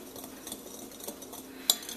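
Dry muffin ingredients are stirred in a mixing bowl with a utensil, giving soft repeated scraping and light clinks at a steady rhythm. One sharper clink stands out near the end. The sounds are close, moderately quiet, and no one talks.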